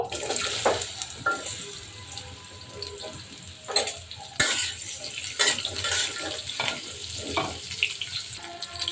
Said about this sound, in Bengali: এখন আমি মিষ্টি লাউগুলো টুকরা করে রেখেছি এগুলো দিয়ে দিব